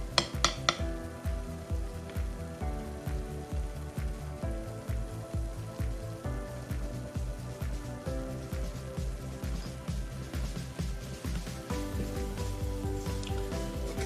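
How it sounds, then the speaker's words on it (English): Sofrito paste is stirred in a non-stick pan, light repeated scraping taps and clinks of a utensil against the pan in a steady rhythm over a soft sizzle, with no talking. "Occasionally stirring it so it doesn't stick or burn."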